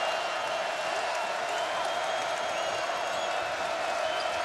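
Crowd at a college basketball game between UConn and Louisville in an arena, a continuous distant roar with faint cheering and applause mixed with announcer speech.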